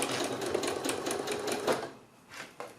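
A sewing machine stitches a fabric mask strap, its needle hammering in a fast steady close rhythm that slows and stops briefly near the end before a final short burst.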